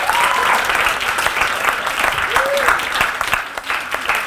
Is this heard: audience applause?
yes